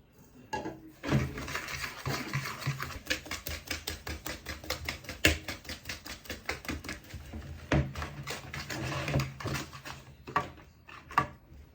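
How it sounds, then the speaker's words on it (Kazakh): Eggs and sugar beaten by hand in a bowl, a fast run of close, sharp clicking whisk or fork strokes against the dish, steady and continuous with no talking. "Енді сахарымызды салып езіп аламыз."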